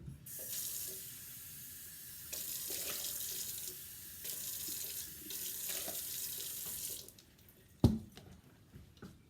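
Water runs from a tap into a sink in a quiet indoor setting during fabric dyeing, a soft steady stream that cuts on and off a few times, ending with a sharp clunk.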